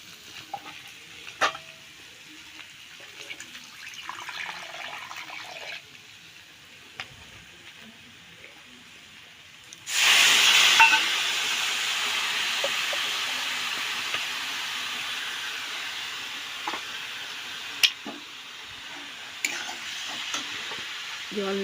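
Water poured into a hot pan while cooking a papaya dish bursts into a loud, sudden sizzle with hissing steam, preceded by quieter stirring and frying, and the steady hiss lingers to the end.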